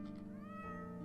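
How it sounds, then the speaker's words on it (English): A cat purring in the video game OneShot, a steady, continuous tonal rumble with a soft, slightly meow-like quality. It holds close and even throughout, with no talking. "Purring."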